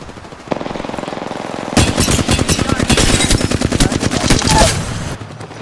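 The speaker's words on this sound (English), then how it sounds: "Taking fire." Automatic weapon fire in the Apex Legends video game, loud rapid bursts of gunshots building into sustained rattling fire over several seconds, close and dense, with no talk over it.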